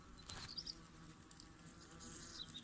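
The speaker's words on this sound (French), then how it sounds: "Elles grignotent le bois." Wasps or hornets chewing wood inside a nest tucked under roof tiles, a faint dry scratching and crackling with brief sharp clicks and buzzy flickers, steady and close.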